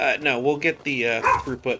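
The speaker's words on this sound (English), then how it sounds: "I'm sorry about the dog." An indoor dog gives loud, close yelping barks in quick succession that overlap someone speaking.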